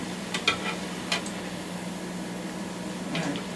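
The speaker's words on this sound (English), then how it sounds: "I like that sound of food frying." Food frying in hot oil at around 320 to 340 degrees, a steady low sizzle with a few brief clinks and stirring sounds over a faint hum.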